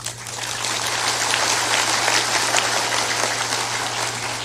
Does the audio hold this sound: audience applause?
yes